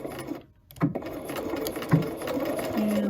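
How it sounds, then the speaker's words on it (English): Sewing machine backstitching at the end of a patch pocket seam: a short whirring run with brief stops and restarts, close and moderately loud. "I am going to backstitch at this end again."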